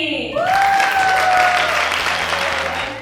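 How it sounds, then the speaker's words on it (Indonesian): Applause from a crowd, steady clapping that fills the space for a few seconds while a bright tone rings faintly above it. "Berikan tepuk tangan untuk Bapak Ibu sekalian di depan ini."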